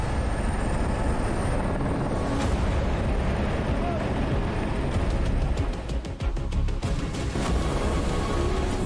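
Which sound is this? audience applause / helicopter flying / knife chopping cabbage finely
helicopter flying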